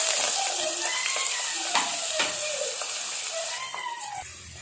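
Onion and dried red chillies frying in a pan, a steady close sizzle and hiss running throughout with occasional stirring scrapes, no talk.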